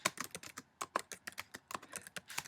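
Typing on a computer keyboard while filling in a simple Google Form: quiet, irregular bursts of key clicks, close and dry, with brief pauses between them and no talk.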